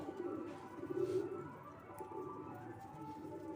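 Pigeons cooing softly at close range, a low murmuring coo repeated over a quiet background, heard while a keeper handles the birds.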